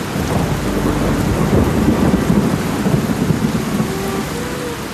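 Steady heavy rain pours down with low thunder rumbling through it, continuous and close, with no voices.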